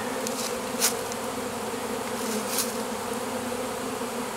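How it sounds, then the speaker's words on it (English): A dense, steady honeybee swarm drones continuously at close range, a low layered buzz with a couple of brief louder passes. "Collecting the swarm bees can be a very enjoyable springtime activity for any beekeeper"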